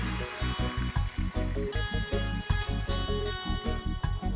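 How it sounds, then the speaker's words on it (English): Beef broth pours into a pot of browned oxtail in a steady, splashy stream, with small rhythmic gurgles continuing for several seconds at close range. "I'm just gonna add some beef broth"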